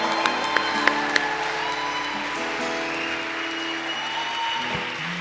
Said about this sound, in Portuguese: todos vocês devem aplaudir o Senhor pela vida deles.